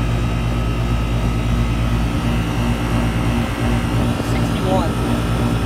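A Nordyne central air conditioning unit runs hard with a steady, loud mechanical hum and fan drone, continuous throughout with no pauses.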